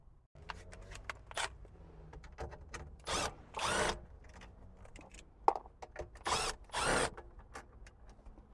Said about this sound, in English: Next, we're going to take the two screws out of here and pull the radio out.